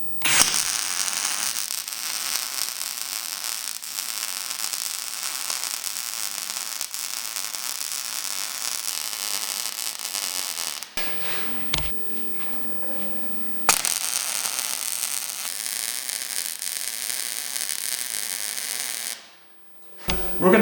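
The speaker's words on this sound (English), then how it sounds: "Now we're going to finish up with another weld over on this end." Arc welding a tabletop onto a steel workbench frame: a steady, crackling electrical buzz runs continuously for several seconds, pauses briefly mid-way, then resumes and sustains before cutting off.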